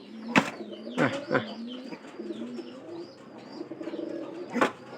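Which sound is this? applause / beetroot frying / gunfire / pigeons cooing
pigeons cooing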